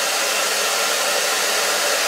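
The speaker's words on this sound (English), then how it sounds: "And the hairdryer is on hot and on high." A hair dryer set to hot and high, drawing power from an ALLPOWERS S2000 Pro power station, blows with a loud, steady, unbroken whoosh from start to finish, no one speaking.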